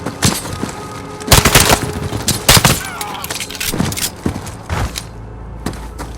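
Bursts of gunfire from Call of Duty Modern Warfare on PS5, loud sharp volleys and single shots at an uneven rhythm with booming thuds, continuing through the whole stretch with faint background activity.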